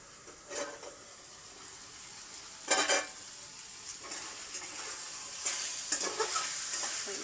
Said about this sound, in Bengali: ঢাকা দিয়ে একটু কষবো